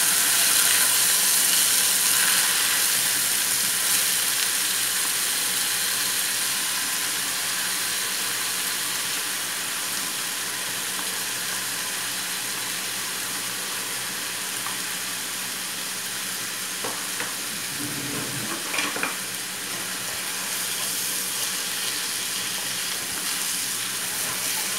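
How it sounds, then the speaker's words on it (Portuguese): Chopped onion and seasonings frying in a pan for stroganoff, a steady hiss and sizzle that slowly eases, with a brief clatter of stirring near the end. "eu vou colocar então a cebola com os outros temperinhos, para dar aí também uma fritadinha"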